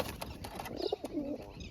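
White and wild pigeons with their chicks in a loft, giving soft nearby coos and a few short calls over a steady background hiss.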